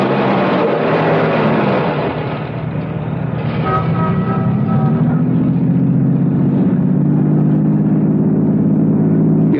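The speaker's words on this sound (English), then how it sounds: "Start the car." A car engine starts and rumbles steadily throughout, the tone rising slightly partway as it pulls away and keeps driving, loud and close with no talking.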